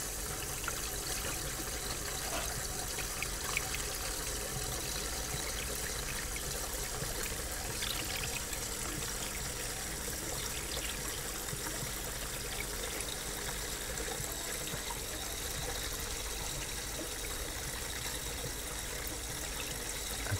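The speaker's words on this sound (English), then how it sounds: "And now it's filling up the fish tank again." Water pours and trickles steadily into an aquaponics fish tank as it refills, a continuous close splashing and gurgling with no talk.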